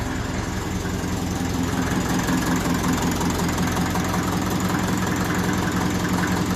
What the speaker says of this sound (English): I think I might have to tension the timing chain on it a little bit. I've noticed it's a little bit ticky.